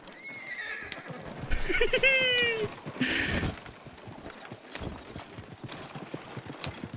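In a video game, a horse whinnies loudly up close, then hooves clip-clop in a steady, moderately quiet rhythm on a hard surface.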